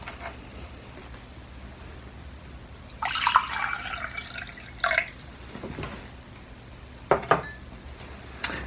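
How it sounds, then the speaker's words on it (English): Water is poured into a drinking glass to change its musical note, a few short splashing and trickling bursts with clinks of glass against a quiet background. "if I pour some water into one of them"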